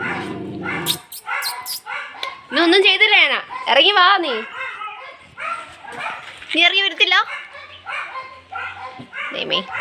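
A dog barks and whimpers close by in short whining bursts and yelps, alternating with someone talking to it.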